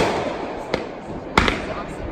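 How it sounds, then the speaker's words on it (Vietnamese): Fireworks set off at an American wedding crack as a few sharp bursts, one single and then a quick double pop, over a low outdoor background. "đám cưới mà có bắn pháo bông này"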